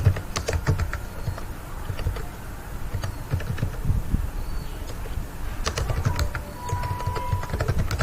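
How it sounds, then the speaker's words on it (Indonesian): A sentence is typed on a computer keyboard, with steady close clicking keystrokes in uneven bursts over a faint room hum. "ketikkan kalimat di sini"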